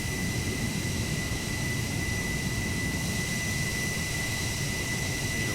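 F-16 jet engine at takeoff power in a flight simulator game, a loud continuous roaring rush with a high whine, steady and alone throughout.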